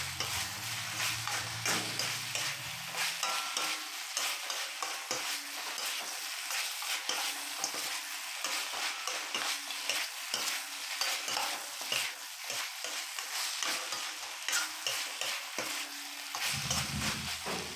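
Pork binagoongan with pineapple is stirred in a frying pan, giving constant close sizzling and frying with scraping stir strokes and no talking throughout.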